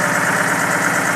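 A Chevrolet D60 truck engine idles steadily after sitting four years, a continuous low rumbling throb with a mid-range mechanical clatter, close and loud, with no voices.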